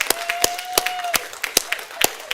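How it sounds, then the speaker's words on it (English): Small group clapping for a departing sound man, scattered sharp claps at an uneven rhythm over a few seconds, with a faint tone and brief voice underneath. "Let's give you a round of applause."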